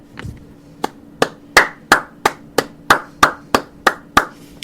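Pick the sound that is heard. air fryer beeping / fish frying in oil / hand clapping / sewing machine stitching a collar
hand clapping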